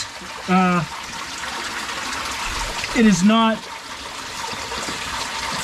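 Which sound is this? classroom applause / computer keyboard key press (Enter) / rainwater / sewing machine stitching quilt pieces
rainwater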